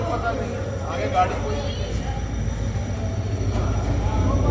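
An express train on the Multan to Lahore line rumbles steadily with a heavy low drone and occasional wheel squeal, while people talk over it.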